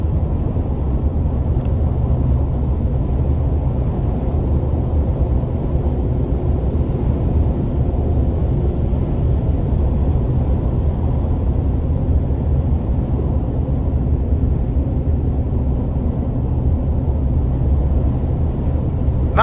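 A GMC conversion van cruising at about 70 mph, heard as a steady, loud low drone of engine and road rumble that never lets up, with no talking.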